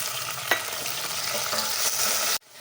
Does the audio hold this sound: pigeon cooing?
no